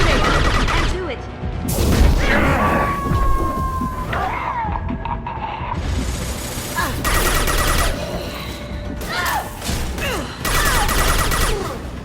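Heavy gunfire in a Mass Effect 2 battle: sustained bursts of automatic fire, crashes and impacts rolling on for several seconds, loud and near, with voices calling out amid the shooting.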